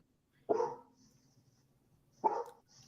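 A puppy lets out two sharp, excited barks about two seconds apart, fairly close and otherwise quiet.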